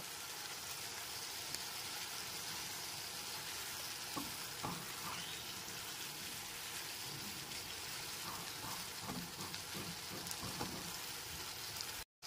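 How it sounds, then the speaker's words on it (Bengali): Ground spices with a splash of water sautéing on a gas burner at medium flame, a continuous soft, even sizzle like light rain, with faint scattered clicks of stirring and no voices. "এরপর খুব ভালো মতো গ্যাসের ফ্লেমটা মিডিয়ামে রেখে কষিয়ে নেব।"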